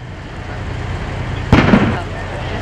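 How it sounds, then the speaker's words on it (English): A bomb squad robot's disruptor fires, shooting the end off a pipe bomb: a single sharp pop around the middle, followed by a short rumbling tail over steady background noise. "The explosion or the pop that you heard was the device that they used to shoot, I'm going to say shoot the end off the pipe"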